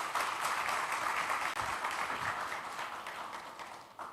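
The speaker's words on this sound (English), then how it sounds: "A huge round of applause to all three of them." A conference audience at an education festival gives sustained applause, a dense, even patter of many hands clapping that fades slightly toward the end.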